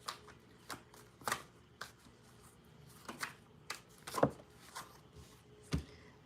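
Playing cards handled and shuffled in a quiet room, giving soft irregular riffles and taps with a few firmer snaps, close but faint, no voices.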